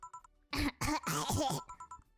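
A character in the video game VA-11 HALL-A clears their throat, a few rough, voiced bursts over quiet game background music with faint electronic tones.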